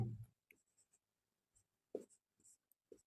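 Marker or chalk writing on a board in a class 10 maths lesson, short scratchy strokes in separate bursts with quiet gaps between, close and fairly faint.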